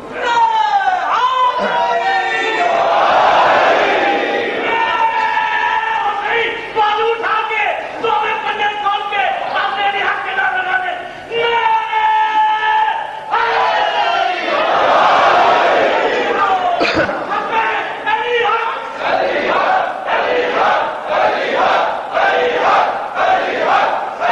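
A large gathering at a religious majlis chants a slogan in loud, rhythmic unison, the massed voices swelling and falling in waves that fill the hall, with a few sharper shouts and brief lulls between surges.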